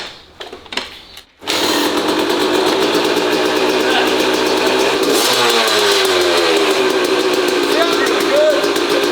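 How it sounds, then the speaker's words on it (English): A motorbike engine with no airbox catches after a few starter cranks and settles into a loud, close running note, then revs up and back down midway, with people talking over it. "I actually can't believe how good that motor sounds."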